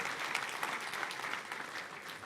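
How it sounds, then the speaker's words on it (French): Congregation at a church sermon clapping together, a brief burst of fairly faint, steady applause with no voices over it. "On peut applaudir le frère."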